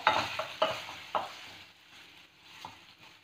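Boiled egg balls being stirred in a pan with spice masala, giving a few close scrapes and taps of the spoon over a soft sizzle that fades toward the end.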